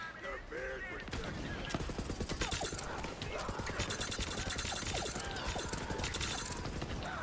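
Lucian's Call assault rifle in Borderlands 3 firing rapid, continuous bursts of gunfire with mechanical clatter, dense and sustained after a brief quieter opening, with a voice talking over it.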